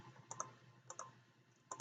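Keystrokes on a computer keyboard come through as three faint, quick double clicks, evenly spaced and close, with no voices over them.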